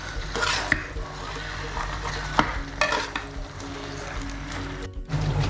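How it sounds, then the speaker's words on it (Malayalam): Cooked tapioca is stirred and mashed into beef masala in a pan for Kerala-style kappa biryani, with a steady sizzle under repeated scraping and thudding spoon strokes. "കപ്പ ചേർത്ത് നന്നായിട്ട് ഇളക്കണം"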